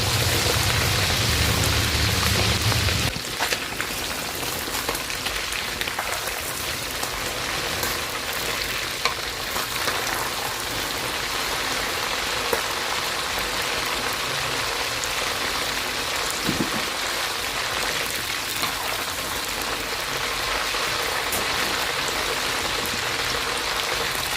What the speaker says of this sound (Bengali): একইভাবে আমরা বাকি যে চিকেনের পিসগুলি আছে ওগুলিও আমরা ফ্রাই করে নেব